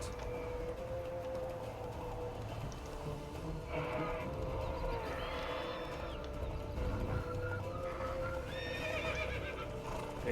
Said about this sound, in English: Coge el caballo, el caballo.